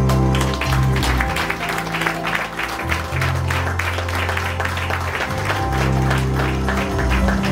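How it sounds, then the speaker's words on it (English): A crowd applauds loudly and steadily as an eleven-color Nilpeter flexo printing press is unveiled, with dense clapping over music playing throughout. "with a resounding applause, join us as we unveil the Nilpeter machine"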